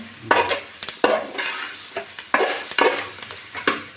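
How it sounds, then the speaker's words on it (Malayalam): Mixed vegetables are stirred in a pan, giving repeated scraping, clattering strokes at an irregular rhythm over a light sizzle, close and fairly loud with no talking. "പച്ചക്കറി എല്ലാം കൂടിയിട്ട് ഇളക്കിക്കൊണ്ടിരിക്കുകയാണ്"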